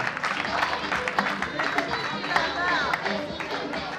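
Applause from the audience at a school awards ceremony at Complexe Handré Daves, a steady clatter of many hands with crowd voices and chatter mixed underneath throughout.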